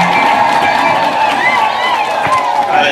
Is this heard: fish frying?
no